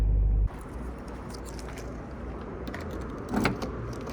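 Trunk of a 1999 Nissan R34 GTR being unlocked: a low thump at the start, then a steady mechanical hum, and a brief, sharper latch-like clunk near the end, close by with no talking.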